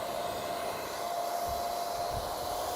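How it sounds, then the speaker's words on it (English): Hair dryer blowing hair forward toward the face, a steady close whooshing hum with a constant motor whine and no speech. "Blow dry it all down towards the face, and that really, really smooths it out."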